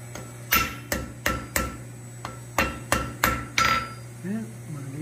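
Cross-peen hammer blows forging a one-piece steel sea turtle at a blacksmith's anvil, about ten sharp close metallic strikes in uneven groups, with a steady low hum underneath.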